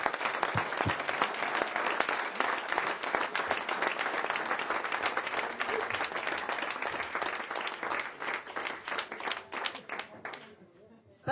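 An audience at a Roland Garros 2014 event applauds, a dense, sustained burst of clapping from many hands that thins and fades out near the end.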